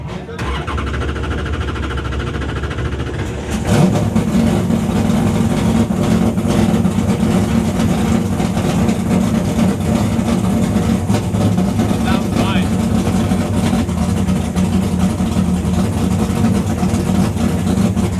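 A repaired drift car's engine starts and then runs loud and steady, droning close by with a strong low rumble, sustained throughout with no clear pauses.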